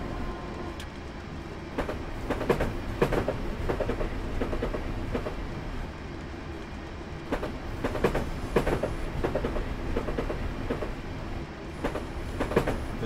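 A video game train in Train Simulator rolls steadily along rails on a UK route with a continuous low rumble and repeated clickety-clack of wheels over track joints, loud and close throughout.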